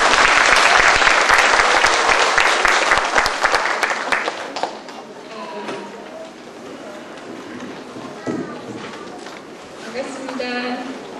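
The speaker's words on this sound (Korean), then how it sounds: "예, 박수로." Seminar audience of music academy instructors bursts into loud, dense applause that fades after about four seconds, followed by quieter room sounds and someone speaking.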